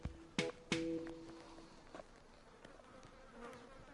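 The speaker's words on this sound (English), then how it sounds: "Load of bees here." Bees buzz softly around, a faint insect drone with a few sharp clicks or taps near the start, quiet and outdoors.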